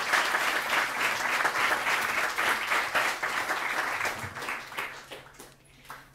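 Audience at an academic colloquium on victimology applauding in a sustained wash of dense clapping that gradually thins and fades toward the end, with no speech over it.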